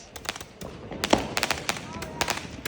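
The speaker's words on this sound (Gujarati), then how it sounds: "એ જ ફટાકડો ફૂટે છે. 1800 રૂપિયા, 288 શોર્ટ્સ" A 288-shot firework cake bursts in a rapid uneven string of sharp cracks and pops at moderate distance, with people talking over it.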